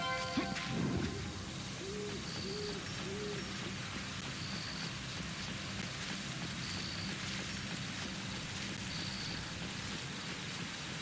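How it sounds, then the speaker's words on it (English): Heavy rain in the Shenmue II video game, a steady dense wash of downpour holding evenly throughout, with a brief louder rumble at the start and faint bird-like chirps recurring above the rain. "It's raining too hard."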